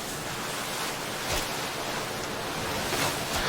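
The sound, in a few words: water sound effect from Magic: The Gathering video game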